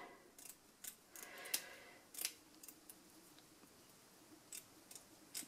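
Scissors snip through mesh cut from an altered canvas, a handful of separate sharp crisp cuts spaced irregularly against a quiet background, close and fairly faint.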